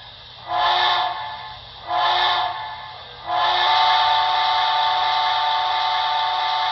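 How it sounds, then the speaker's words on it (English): Broadway Limited HO model steam locomotive sounding a whistle pattern of two short blasts followed by one long sustained blast, close and clear over a faint background hum. "Long whistle."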